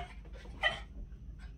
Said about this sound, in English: we're getting a little bit of a problem here with that little barking